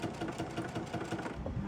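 A sewing machine running noisily while binding a quilt, its needle hammering in a steady rapid rhythm with a rough knocking edge, close and continuous with no talk.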